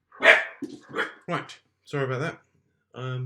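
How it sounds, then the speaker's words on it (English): A dachshund barks several sharp, close yaps in quick succession, then someone speaks briefly in a quiet indoor room. "Excuse my dog."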